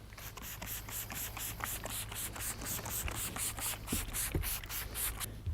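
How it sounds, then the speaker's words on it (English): A spray bottle mists water onto a wet tie-dye shirt being prepared for folding, producing a rapid series of close, soft hissing spritzes with light rubbing and handling noises in between. "we're going to add a little bit more water with a spray bottle"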